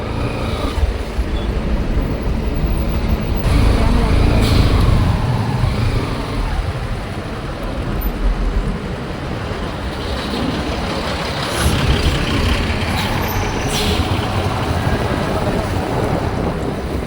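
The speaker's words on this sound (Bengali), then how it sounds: "বিশাল জ্যাম রয়েছে রাস্তায়।" Heavy road traffic in a large jam, a continuous low rumble of engines and trucks mixed with gusty wind buffeting the microphone, and a few brief brighter bursts from passing vehicles.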